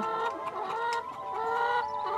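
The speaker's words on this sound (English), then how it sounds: "There will be 150 chickens here" Several hens cluck and murmur together at a rehoming collection point for ex-commercial laying hens, a close, continuous chorus of overlapping clucks with no talk.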